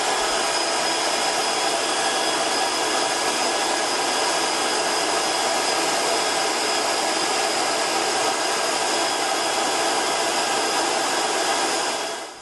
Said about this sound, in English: You're going to hear a fan turn on as soon as you plug it in.